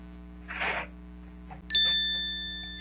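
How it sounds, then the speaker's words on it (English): A bright notification bell ding rings out once, sharp and clear with a sustained ringing tone that slowly fades, preceded by a brief soft whoosh. "Don't forget to ring the bell buttons for the next notification."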